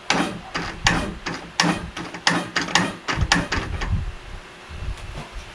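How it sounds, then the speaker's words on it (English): A 20 hp Kohler Courage engine newly mounted in a Craftsman LT2000 lawn tractor cranks on its starter from a jumper pack, with a fast series of loud rhythmic chugs that then settle into a steadier whir. "Let's see if it cranks."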